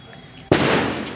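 A Diwali firecracker goes off with one sudden loud bang after a quiet moment, and its blast roars on and slowly fades over the next half second.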